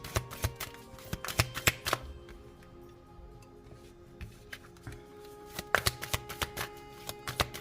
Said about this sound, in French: on va poser les cartes pour chaque domaine.